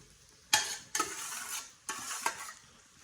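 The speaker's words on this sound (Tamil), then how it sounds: "இது கொஞ்சம் நல்லா வதங்கட்டும் பார்த்தா நாங்கள் வெங்காயம் எல்லாம் வதங்கிட்டு" Onions sautéing in a pan, a few distinct stirring scrapes about a second apart over a soft, steady sizzle, close and fairly quiet.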